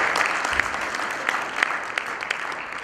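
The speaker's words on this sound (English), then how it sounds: "Please another round of applause for Carlo." Conference audience applauding a speaker at the end of a talk: dense, steady clapping from a room of people at moderate loudness, without pauses, over the whole stretch.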